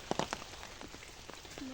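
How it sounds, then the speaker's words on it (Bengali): Rain falls outdoors as a brief, faint patter, with a few sharper drops striking a surface up close. "সম্ভবত বৃষ্টি এখনো থামে নাই বৃষ্টি আবারও হবে"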